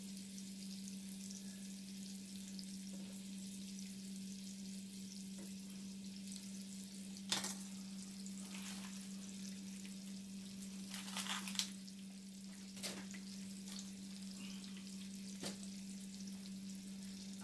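Onions and Salisbury steak reheat in a pan, a faint, steady sizzle under a low hum, broken by a few soft clinks of stirring.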